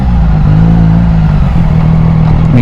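A Triumph Daytona 660 motorcycle engine droning steadily and loud up close, with an exhaust leak, a sustained low hum with a slight rise near the end, with no talk.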